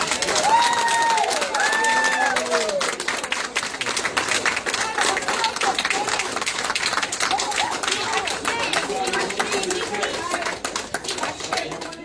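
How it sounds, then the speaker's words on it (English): A school board meeting audience in a crowded room claps steadily and cheers loudly for about twelve seconds, the dense applause continuous and near, with some higher shouts and whoops rising over it early on. "Her speech was met with the sound of applause and cheering"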